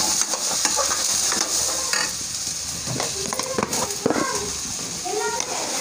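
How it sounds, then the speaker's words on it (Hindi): A spoon stirs turmeric powder and other spices through a sizzling pan, scraping and clinking repeatedly over steady frying hiss, with voices faintly audible in the background. "हल्दी पाउडर सारे मसाले को मिला देंगे गैस को कम कर देंगे"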